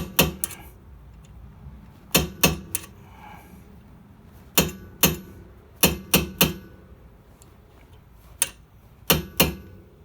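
A hammer lightly taps a punch against a brake pad pin on a Mazda ND Miata's front brakes, making sharp metallic clicks in small clusters of two or three. The taps are spaced by short pauses, close and crisp.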